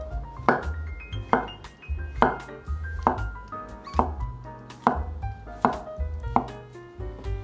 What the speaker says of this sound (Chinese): 把蘑菇切片